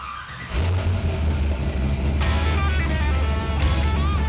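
LS V8 swapped into a C10 pickup truck with a Tremec TKX manual transmission, cranking and catching into a loud, deep rumbling idle that blips up in revs a couple of times, close by.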